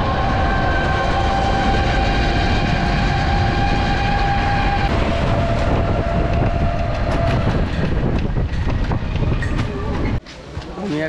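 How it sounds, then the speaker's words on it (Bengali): Chattala Express train pulling into Bhairab Bazar junction, a loud, steady rumble of wheels and carriages with sustained horn-like tones early on, then a rougher clatter as it passes close. "চট্টলা এক্সপ্রেস চলে আসছে।"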